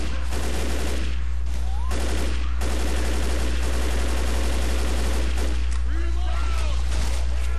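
Rapid bursts of gunfire in Left 4 Dead as players fight off a zombie horde in the sewers, loud repeated volleys and machine-gun rattles over a constant low rumble, with a voice talking throughout.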